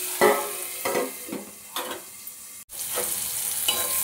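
Pointed gourd pieces fry in salted oil, an even close sizzle broken by several spatula stirs and scrapes, with a brief dropout midway before the frying noise resumes.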